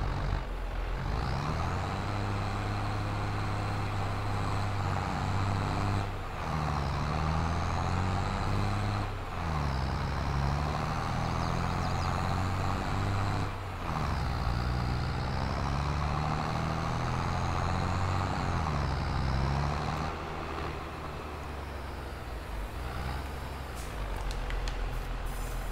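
A tractor engine rumbles at a steady drone in Farming Simulator 22 on the Elmcreek map. The hum is held for the whole stretch and briefly dips and swells about every few seconds, as with gear changes.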